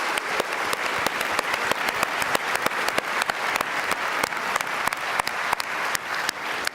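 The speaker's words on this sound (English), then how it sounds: "A big round of applause." Sustained audience applause at an awards ceremony for a 2015 Sterling Scholar winner in business and marketing, steady dense clapping with sharp individual claps standing out throughout, no talk over it.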